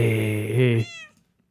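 A Minecraft cat gives a short, clear meow up close, lasting under a second and then fading into quiet.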